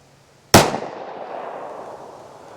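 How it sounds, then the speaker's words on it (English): A single sharp gunshot from a Taurus 856 2-inch .38 Special revolver, fired over a chronograph, cracks loudly and close, then trails into a long fading echo. "I'm gonna run some rounds across this chrono and get some speeds."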